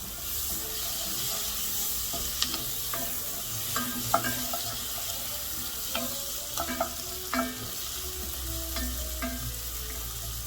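Vegetables for vichyssoise sautéing in a pot, a steady sizzle running throughout with scattered scrapes and clinks as they are stirred, close and fairly quiet, no voices.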